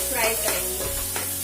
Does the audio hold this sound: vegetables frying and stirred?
yes